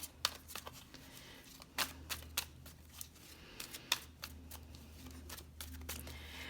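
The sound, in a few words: shuffling tarot cards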